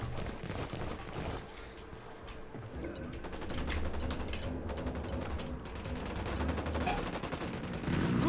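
Gunfire in a French-language shooter video game, a sustained crackle of rapid shots and bursts running throughout at moderate distance, steady and dense with no pauses.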